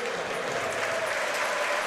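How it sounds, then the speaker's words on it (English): Home football fans at a Hearts friendly against Tottenham Hotspur give warm applause to departing players, a steady, distant wash of stadium clapping throughout. "Warm round of applause from the home fans for the departing players."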